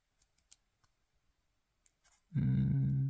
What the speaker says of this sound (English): parallel to that cut, we're going to make another cut